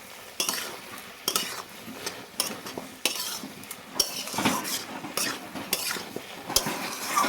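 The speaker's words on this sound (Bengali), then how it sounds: "আমি সেই সরষে পোস্ত বাটাটা দিয়ে দেবো। ভালোভাবে একটু নাড়াচাড়া করে নেব।" Mustard and poppy seed paste is stirred into greens with Malabar spinach in a pan, a utensil scraping and clinking against the metal in repeated strokes over a soft frying sizzle, fairly close and with no talking.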